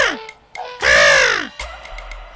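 A cartoon crow caws in a short series of calls, with one long, loud, drawn-out caw in the middle and shorter caws before and after, close and clear with no talk.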